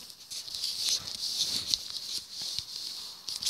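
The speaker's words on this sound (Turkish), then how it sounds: "yağmur gidiyor arkadaşlar" Rain falling in the Minecraft survival video game: a steady hissing patter that runs continuously, fairly loud and even, with faint talk underneath.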